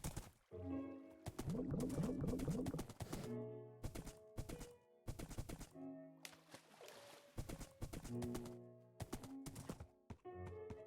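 Horse hooves clip-clop in Minecraft, GT New Horizons modpack, as a series of close, hollow game-style clops in uneven bursts and pauses, with other blocky thunks mixed in and no talk.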